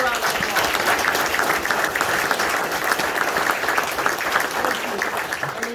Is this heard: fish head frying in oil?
no